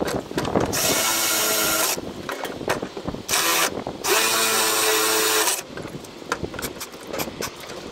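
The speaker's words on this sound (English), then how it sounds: "just drill the holes." A power drill whirs in several loud bursts while drilling holes to mount a Condor SC-2000 wheel chock, each lasting about a second or two, with brief pauses and faint clatter between them.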